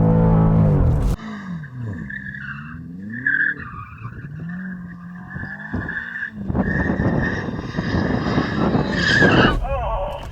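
A BMW, an M8 or M5 CS or M5 Competition at a drag race, spins its tyres in a loud, wavering screech with engine roar, briefly quieter in the middle before revving harder; voices talk in between.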